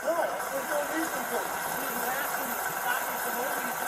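A car engine idling steadily nearby with a low hum and faint rattle, under some indistinct talking, heard from inside the car with the window cracked open.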